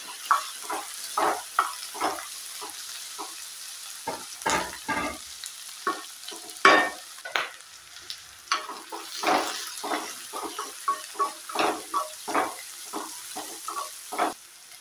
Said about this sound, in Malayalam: കുറച്ച് കറിവേപ്പില ഇട്ട് കൊടുക്കാം.